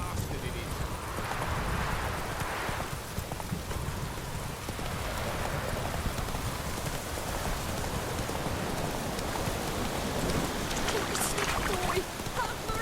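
Roach, a horse, gallops with steady hoofbeats that are half buried under heavy rain and a loud, dense wash of noise, while voices speak over it.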